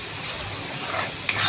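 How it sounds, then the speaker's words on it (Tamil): Tomatoes sautéing in a pan for prawn thokku, a steady loud sizzle with continuous stirring and scraping throughout, and a brief utensil clink near the end. "அதிலே கொஞ்சம் தக்காளியை போடவும். தக்காளியையும் போட்டு நல்லா வதக்கவும்."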